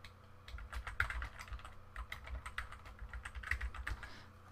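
Rapid, uneven keystrokes clatter on a Mac computer keyboard, close and fairly quiet, continuing without pause over a faint low hum.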